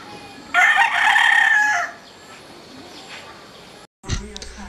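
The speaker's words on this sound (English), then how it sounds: "that rooster's been going at it since about 4 o'clock this morning" A rooster crows once in a Philippine village, loud and close, a long drawn-out call, followed by quiet background and a brief rustle at the end.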